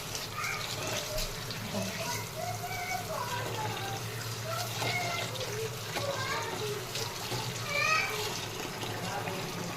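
Leafy greens being washed two or three times in water, with a continuous splashing, running-water wash throughout and a faint voice talking in the background.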